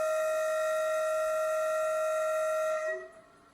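A train horn sounds one long, loud, steady tonal blast that cuts off abruptly near the end, followed by a quiet tail.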